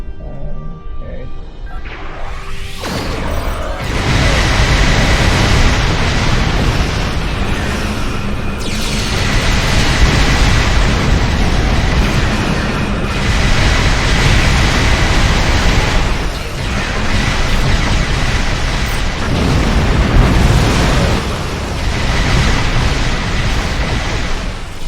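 Explosions rumble almost nonstop in the space combat game Star Trek Online, loud deep booms and bursts piling over one another for the whole stretch, with several sharper blasts standing out.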